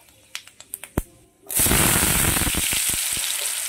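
Panch phoron and dried red chilli hit hot mustard oil: a few sharp crackles and pops, then a sudden loud, steady sizzle that carries on close up with scattered spattering pops.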